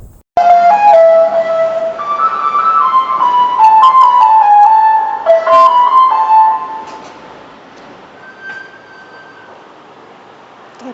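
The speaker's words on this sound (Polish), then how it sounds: "Drugi dźwięk to water is coming, czyli wóz, który dowozi do mieszkań wodę pitną." A drinking-water delivery truck in Eskişehir plays its loud electronic melody jingle at close range for about six seconds, then the tune fades to a faint, distant tone over quiet street background.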